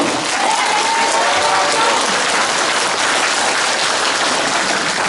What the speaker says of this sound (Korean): 여러분 박수 치세요.